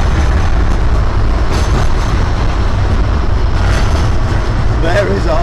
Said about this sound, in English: There is our tram.